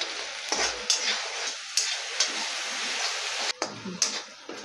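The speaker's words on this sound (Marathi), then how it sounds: "आणि गॅस मोठाच ठेवायचा आणि हा मसाला मस्त याचा कच्चेपणा जाईपर्यंत परतून घ्यायचा." Ground masala paste frying on high heat in a pan, a steady loud sizzle broken by several scraping stirs, close by and with no voices.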